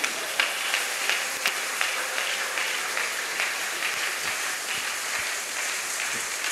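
A church congregation at a Sunday service applauds with steady, dense clapping, moderately loud and sustained throughout, with no clear speech.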